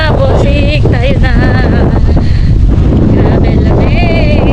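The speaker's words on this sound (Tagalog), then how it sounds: "Lakas ng hangin." Strong wind buffeting the microphone outdoors in rain near a boat, a steady loud roar throughout with voices talking faintly beneath it.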